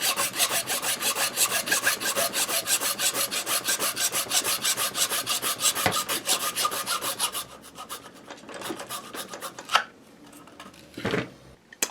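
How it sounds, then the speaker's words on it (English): A hacksaw cuts a 4-inch section of pipe with fast, rhythmic back-and-forth rasping strokes, loud and close, which stop after about eight seconds and are followed by a few scattered clicks and handling knocks. "This pipe is super easy to hacksaw. As you can see, it takes no time for me to cut a 4-inch section."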